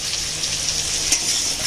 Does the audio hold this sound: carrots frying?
yes